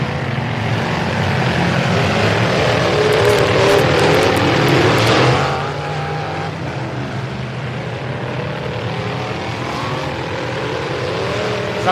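A full-size truck engine revving hard at a Bash for Cash demolition derby, a loud, rough roar that holds steady, then drops slightly in level midway and keeps rumbling with crowd noise beneath.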